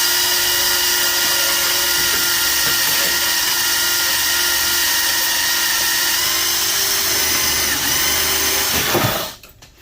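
A handheld drill drives a small machine stripping copper wire, giving a loud, steady high whine that runs continuously for several seconds and then winds down and stops near the end.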